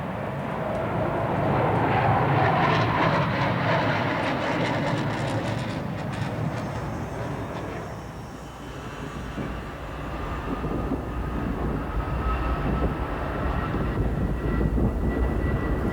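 A jet aircraft roars loudly overhead at the 1985 Paris Air Show, the sound swelling, dipping briefly, then building again into a sustained rumbling whine.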